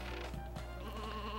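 A sheep in the video game Looney Tunes Sheep Raider gives a short, clear bleat that stands alone over a steady game backdrop.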